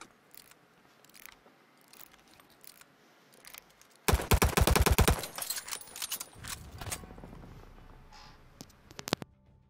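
Call of Duty gunfire in a college esports match: a loud burst of rapid automatic shots after quieter single pops, then scattered shots and game noise trailing off.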